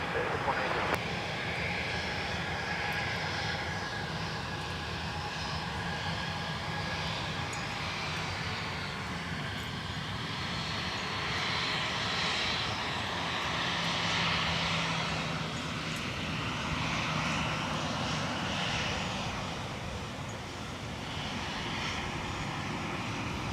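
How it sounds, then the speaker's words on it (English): Sun Country Boeing 737-800 in the airline's original delivery livery, its jet engines giving a steady, broad roar at an airport runway for the whole stretch, with voices talking over it. "Sun Country 737-800 in the delivery scheme"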